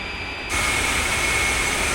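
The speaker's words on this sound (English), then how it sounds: "This is the A-10C Warthog, and this is the main ground attack plane of the US Air Force." The A-10C Warthog ground attack jet's engine in the DCS flight simulator: a steady turbine whine that jumps abruptly louder halfway through, then holds a loud, even roar with a thin high tone riding on top.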